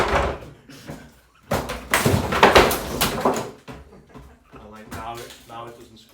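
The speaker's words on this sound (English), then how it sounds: "the tenants complaining about the cupboards a bit squeaky" A cupboard door in a shared rental house opens and shuts, giving a cluster of close knocking and creaking bursts in the middle, with a voice talking before and after.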